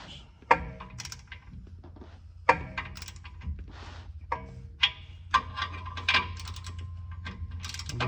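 Torque wrench clicking and ratcheting as lift kit bolts are tightened to 90 foot-pounds on a 2019 GMC Sierra, a series of sharp metallic clicks and clacks spaced irregularly over a low steady hum, close and moderately loud.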